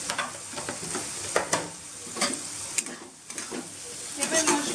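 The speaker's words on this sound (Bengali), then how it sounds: "খুব ভালো করে মশলাটা কষাতে হবে তেল ছাড়া পর্যন্ত" Ground turmeric, coriander, cumin and chilli powders are stir-fried in oil for dal, a close steady sizzle with rhythmic scraping strokes of a spatula against the pan.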